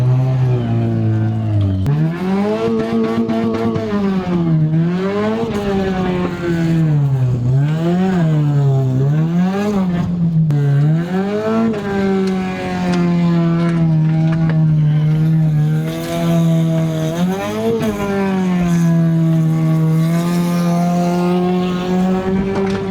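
An old Honda car engine running hot on peanut oil instead of motor oil idles and revs up and down repeatedly, a loud, continuous rising and falling drone close by with no talking.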